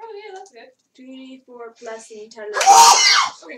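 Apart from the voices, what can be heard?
sneeze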